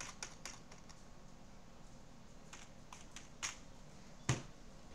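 A few scattered keyboard key taps and clicks, sparse and irregular rather than steady typing, over a quiet room hiss, with one sharper click near the end.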